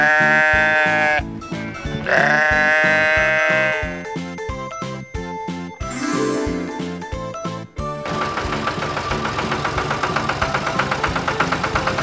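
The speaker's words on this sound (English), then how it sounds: "Sheep." Sheep bleat loudly and repeatedly close to the listener in a farm setting, harmonic wavering cries separated by short gaps, with a steadier animal sound continuing toward the end.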